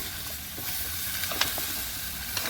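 Fish and cauliflower sizzle steadily in a hot pan, a continuous frying hiss with occasional scrapes and clinks from stirring, close and moderately loud, no talking.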